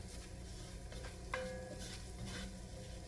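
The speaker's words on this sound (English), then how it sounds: "Go ahead and stir it up" A spoon stirs a butter and flour roux in a pan, scraping with soft clinks over a faint low sizzle, quiet and close.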